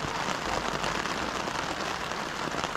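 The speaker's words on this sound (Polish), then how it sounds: "Ja lubię spać w deszczu w namiocie, wtedy ten deszcz tak pada," Rain drums steadily on a tent at a campsite, a dense, even patter that fills the space without pause, close and fairly loud, with no voices.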